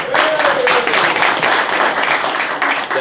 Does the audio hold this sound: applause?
yes